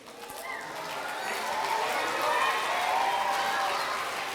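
A crowd of children and staff applauds at a school Blue Ribbon celebration, a broad steady wash of clapping and cheering swelling slightly midway, with voices mixed in.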